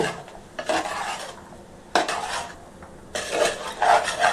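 Eggplant, chana dal and coconut curry being stirred in a pan, with gritty scraping strokes of a metal spoon against the pan coming in three bursts, close and fairly loud, no one talking.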